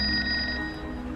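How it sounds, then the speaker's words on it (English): A telephone rings indoors with a steady electronic tone that sounds clearly for about the first half second, then fades under room background, with no talking. "your phone's ringing"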